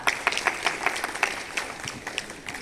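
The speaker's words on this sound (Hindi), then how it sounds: "बहुत बहुत धन्यवाद सर, जोरदार ताली।" Audience applause at a yoga and anti-addiction pledge event at DIET Chhatauni, Motihari: scattered, uneven clapping from a modest crowd, with sharp individual claps standing out over a steady patter.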